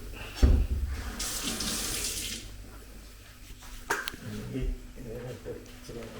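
Water runs steadily from a tap into a sink, splashing for a few seconds, while a voice talks nearby.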